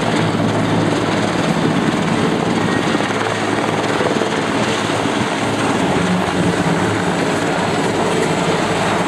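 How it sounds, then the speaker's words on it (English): At a 2010 Kaneohe Bay, Hawaii air show, CH-53 helicopters lift off in a loud, continuous rotor roar and turbine whine that stays steady throughout, with no talking. "The CH-53s lift off to return to base after another successful"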